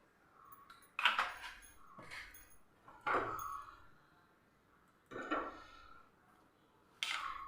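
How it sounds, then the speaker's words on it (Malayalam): A cooking pan set down on a stove, then oil poured in for frying eggs, giving several sharp metallic knocks and clinks spaced a second or two apart, close and fairly loud against a quiet room. "ഇനി ഞാനിതാ പാൻ വെച്ച് കൊടുത്ത് നമുക്കൊരല്പം എണ്ണ ഒഴിച്ചു കൊടുക്കാം"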